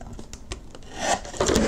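Paper trimmed for a handmade masculine birthday card gives a brief, close rasping cut that swells into a louder scraping stroke near the end, with no talk.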